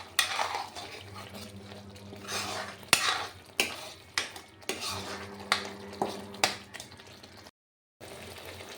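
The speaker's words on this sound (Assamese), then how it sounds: "এতিয়া মোৰ মছলাখিনি ভালকৈ ভাজি ল'ব লাগিব।" Spices frying in a pan while a utensil stirs and scrapes, giving repeated sharp metallic clinks over a low steady sizzle, with a short silent gap near the end.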